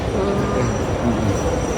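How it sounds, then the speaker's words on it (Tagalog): A train passes near a metro station, a steady loud rumble of rail cars with wheel noise throughout. "Dadala niya yung tren, Ken."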